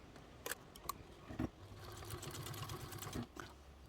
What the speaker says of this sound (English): I'm going to top stitch this down with a 1/8 seam allowance.